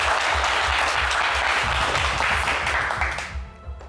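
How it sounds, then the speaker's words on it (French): A studio audience on a television game show claps enthusiastically, a full, even roar of applause that holds steady and then tapers away at the end. "sous les applaudissements du public."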